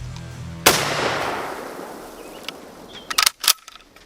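A single loud, sharp gunshot from a Mosin M44 rifle chambered in 7.62x54R rings out with a long decaying tail, followed by a few quieter bangs or impacts near the end.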